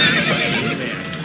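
Roach, a horse in the Witcher 3 video game, gives a short loud neigh over a busy game soundscape, lasting about a second.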